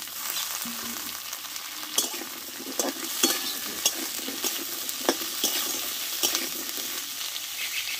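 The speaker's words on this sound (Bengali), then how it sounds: "পেঁয়াজটা ভাজা হয়ে গেছে। এবার কেটে ধুয়ে রাখা আলুগুলোকে আমি দিয়ে দেবো।" Cut, washed potatoes tumble into a pan of frying onions, setting off a steady hot-oil sizzle with sharp scrapes and clacks of a stirring spoon at irregular intervals, close and with no talking.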